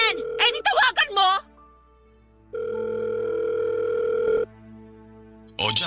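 A telephone call being placed: a steady electronic ringback tone sounds alone for about two seconds between bursts of talk before and after.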